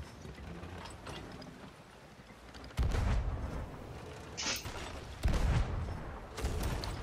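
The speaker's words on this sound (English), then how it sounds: "Get some cannon shots off." Ship cannons firing in the pirate game Sea of Thieves, a few heavy booming shots at irregular intervals over a continuous roar of sea and wind, fairly distant and muffled.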